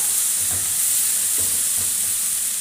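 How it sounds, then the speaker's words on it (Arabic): Liver fries in a pan with a constant hiss of sizzling, broken by a few soft scraping stirs as the pieces are turned over. It is close and steady, with no voices. "وهنقوم رايحين مقلبين كل ده كده، هنديله تقليبه كده"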